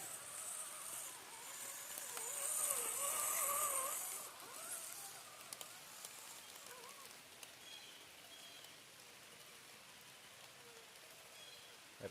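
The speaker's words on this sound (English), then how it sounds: "And it's raining harder." Rain falling steadily outdoors, a dense hiss of drops on surfaces near a truck, heavier for a few seconds early on and then settling into a constant patter, with a few sharp taps along the way.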